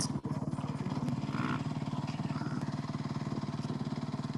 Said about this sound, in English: So Ricky Brabeck, part of the Monster Energy Honda HRC team, riding a CRF 450 or CFR 450.